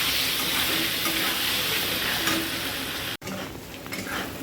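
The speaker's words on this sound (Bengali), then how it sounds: "অল্প একটু হলুদ দিয়ে আমি ভালো করে ভাজা করতে চাই।" Taro and vegetables frying in a pan with a little turmeric and salt, a loud continuous close sizzle with stirring scrapes, briefly broken by a short cut before the hiss resumes.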